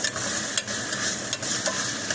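Tomato and potato masala with salt sautéing in a pan for paneer butter masala, giving a steady close sizzle with scattered stirring scrapes and clicks and no voices.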